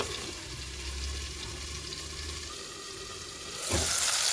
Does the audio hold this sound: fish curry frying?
yes